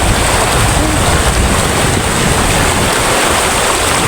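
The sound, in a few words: flood water rushing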